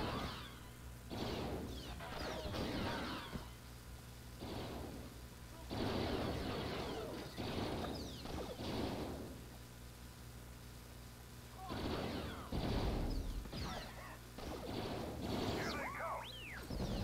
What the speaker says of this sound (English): Guess I'll get my chain gun out.